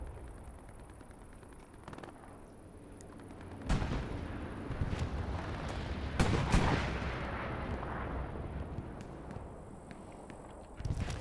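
Self-propelled artillery bombardment in Hell Let Loose, a World War II shooter: heavy shell impacts and booms land in rapid succession over a constant rumbling battlefield, with loud blasts clustering near the middle and a dense roar throughout.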